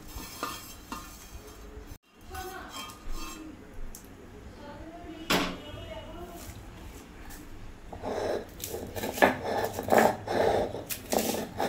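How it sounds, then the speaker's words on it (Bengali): Spices pounded and ground by hand on a stone grinding slab (sil-pata) for raw mango jhuri pickle, producing repeated scraping and knocking strokes, close and fairly clear, with brief pauses and clattering toward the end. "এখন মশলাটা আমি পাটার মধ্যে বেটে নেব।"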